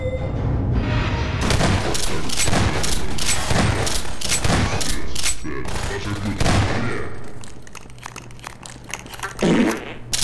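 Rapid bursts of booming cannon fire from the video game Kayf Life 2, loud and repeated, followed by quieter sounds and a low hum.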